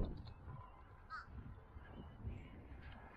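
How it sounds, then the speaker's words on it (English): Crow cawing outdoors in Riverton, New Jersey: a few harsh, hoarse calls at moderate distance over a low background rumble of wind and movement. "There's a bird, right? Look at that bird."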